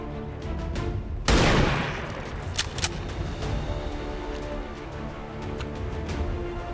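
Single loud gunshot in XCOM 2 Long War 2, a sudden close blast with a brief harsh decay, followed by a couple of fainter impacts over a low steady background.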